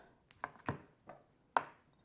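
A knife chopping a jalapeño on a cutting board makes four or five sharp, distinct close thuds at an uneven pace, clear against near silence.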